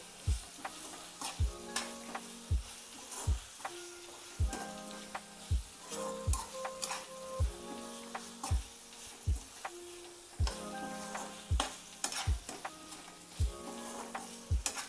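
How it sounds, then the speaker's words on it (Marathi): Paneer being stir-fried in a pan of chilli gravy for Indo-Chinese chilli paneer, with a regular rhythm of spoon scrapes and knocks over a continuous close sizzle and no speech. "पनीर टाकून बस 1 मिनिट परतायचं मिक्स होईपर्यंत."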